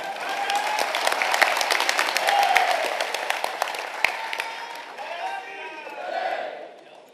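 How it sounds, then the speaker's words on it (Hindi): Audience applause at a swearing-in ceremony for a new chairman and team, a dense run of hand claps with crowd voices and talk mixed in, holding steady before tapering off at the end. "इसके ऊपर भी आप ताली नहीं डालते"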